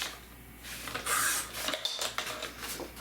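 Paper being cut for a pop-up page in a wedding scrapbook album for the couple's parents, heard as a short crisp burst of cutting and rustling close by, with light handling clatter around it and no talk.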